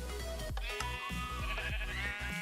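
Minecraft sheep give a quick string of short, repeated bleats up close, with a sustained higher tone running through the game sound; no one talks.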